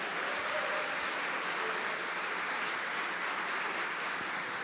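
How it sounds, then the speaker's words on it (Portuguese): Church congregation applauding in unison, a steady wash of many hands clapping at moderate distance, continuous for several seconds with no speech over it. "Aplauda Jesus por eles."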